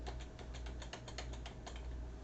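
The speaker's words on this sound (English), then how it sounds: "To get there, we use our arrow down keys." Computer keyboard keys, the down arrow pressed over and over, give a quick run of roughly a dozen close, crisp clicks against a steady low background hum.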